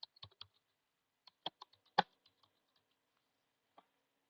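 Someone types code on a computer keyboard in short, sparse bursts of crisp key clicks, close and quiet, with one firmer keystroke near the middle and long gaps of silence between.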